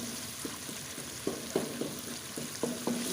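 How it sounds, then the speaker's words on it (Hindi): Masala frying in ghee for restaurant-style dal chana fry: a steady, close sizzle with soft stirring scrapes and occasional spattering pops, no talk. "मसाले को हम अच्छे से फ्राई करेंगे।"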